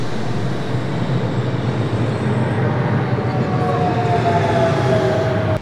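Steady rumbling of a moving train in Portugal, heard from inside a carriage, with a rising whine running underneath, continuous and fairly loud.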